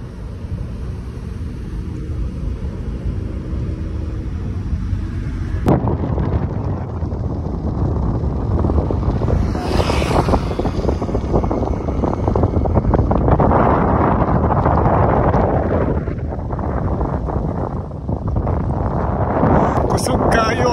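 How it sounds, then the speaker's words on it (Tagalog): Strong wind on open water, buffeting the microphone with a heavy, continuous roar and low rumble, with a person speaking loudly over the gusts throughout. "Kusog kayo ang hangin"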